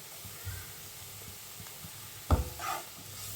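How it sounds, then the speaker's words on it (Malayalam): Masala with turmeric sautéing in a pan for egg roast gives a faint, soft sizzle, with one brief clatter of stirring near the end. "നന്നായി വഴറ്റി കൊടുക്കുക."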